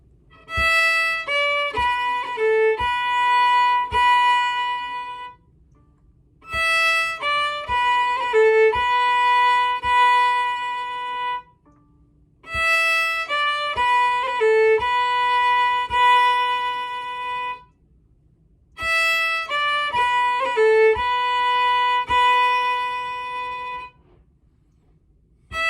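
Slide guitar plays the closing phrase of the Irish tune An Chóisir, repeated four times with short pauses between, each pass a run of clear ringing notes with smooth slides, alone and close.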